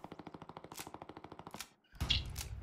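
Rapid automatic gunfire in Hell Let Loose, a fast even burst of close shots, then a brief pause and a louder, noisier blast, with no talk.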